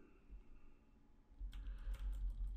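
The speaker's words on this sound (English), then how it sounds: "I'll just use my arrow keys now to see if I can do a little better" Arrow keys on a computer keyboard are tapped to adjust camera focus through control software, a quiet burst of several soft clicks after a near-silent stretch, with no talking.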